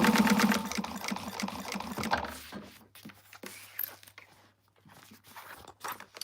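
A sewing machine stitches a seam on a quilted wristlet, its rapid mechanical whirr loud at first, then giving way to short stop-start bursts and clicks with quiet gaps.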